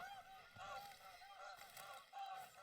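Geese honking in a hunting video game: a small flock of landed birds calling in rough, repeated honks, fairly soft and at some distance, with brief gaps between bursts.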